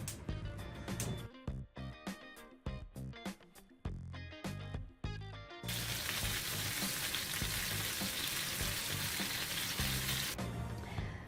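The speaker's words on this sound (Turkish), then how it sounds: "Şimdi patlıcanları kızartacağım." Scattered sharp clatters and bursts at first, then a loud, steady crackling sizzle of eggplant frying in hot oil for patlıcan çığırtma that continues to the end.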